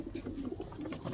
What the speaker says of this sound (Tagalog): napaka cute na ibon mga kalapatids